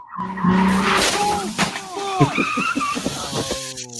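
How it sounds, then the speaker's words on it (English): Cars spinning out and crashing at Cars and Coffee Wichita: squealing, skidding tyres and revving engines up close, with a sharp impact and excited voices over the commotion. "First one spun out, second one crashed"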